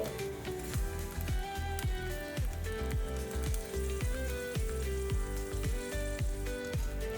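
Green chillies and tomato pieces sizzle in hot oil, a steady hissing fry partly masked by rhythmic background music with a thumping beat.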